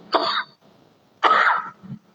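Two harsh coughs, close and loud, separated by a short pause, the second followed by a low throaty rasp.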